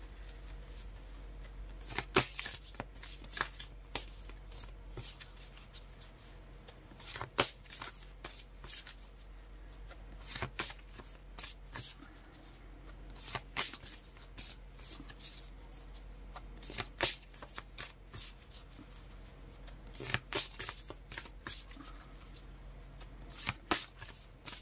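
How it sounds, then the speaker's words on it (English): A large deck of Angel Wisdom tarot cards is shuffled by hand in quick, irregular bursts of soft riffling and card slaps, fairly quiet and close, without talk. "I'm just going to shuffle behind because it's a big deck"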